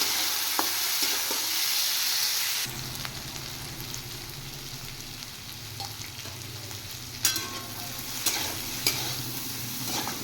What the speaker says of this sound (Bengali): এবার একটু নাড়াচাড়া করে দিয়ে দেবো